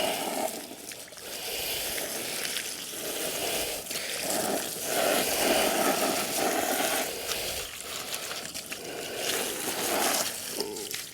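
A pool pump backwashes a Wybot C1 robotic pool cleaner's filter, producing a steady, loud rush of water and motor hum that continues throughout, with slight surges and no talking.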